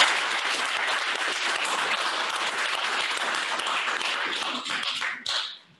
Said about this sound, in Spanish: Un aplauso para esta Roxana, ¿cierto?